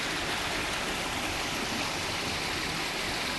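Spring water flows out of the ground in a steady, unbroken rush, loud and close, with no voices over it.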